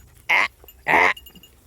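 Two loud Nigerian Dwarf goat bleats, close by, each about a fifth of a second long and separated by a short pause, with quiet outdoor ambience around them.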